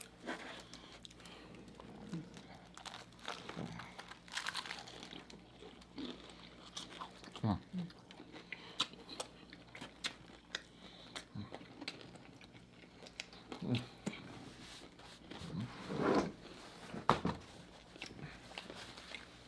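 A crunchy fried chicken sandwich is bitten and chewed up close at a mukbang, giving several separate crisp crunches and soft chewing sounds spread over the stretch, fairly quiet overall.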